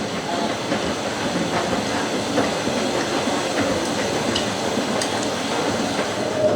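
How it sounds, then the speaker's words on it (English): Hotpoint 9530 washing machine well into its second rinse, giving a steady, continuous churning and sloshing wash with a faint hiss and occasional soft knocks, loud and unbroken with no talking. "the Hotpoint is well into the second rinse now"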